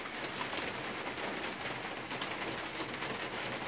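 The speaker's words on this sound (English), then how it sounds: "it's dumping buckets of rain here for the past couple days" Heavy rain pouring steadily in Titusville, a dense, even broadband hiss with no breaks, loud and close throughout.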